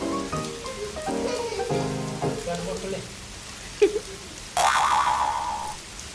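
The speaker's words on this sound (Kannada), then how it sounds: "ಹನಿ ಹನಿ ಆಗ್ತಿದೆ" Light rain patters softly on an outdoor spot where a father and his children play, with voices and playful tonal sounds rising over the steady hiss.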